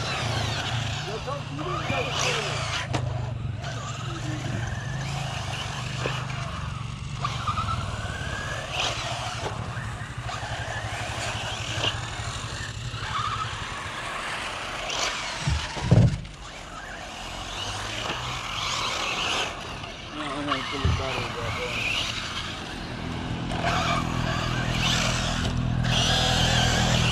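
Losi 8ight and Traxxas Rustler VXL RC cars racing on 3S batteries, their whining electric motors buzzing and surging through a steady noisy background with a sharp thump midway, while people talk throughout.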